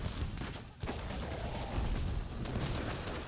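Dense, continuous rumbling blasts and crackling bursts fill the clip, a loud barrage of Monster Hunter World explosions and gunfire with no pause.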